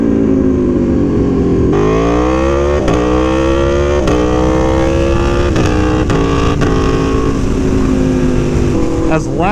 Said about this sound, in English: still does not hold a candle to the sound of a MotoGP bike